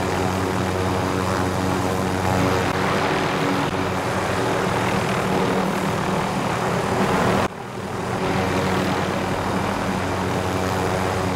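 A propeller airplane engine drones loudly and steadily in Call of Duty: Warzone, a constant roar that dips briefly near the end before resuming, with no talking.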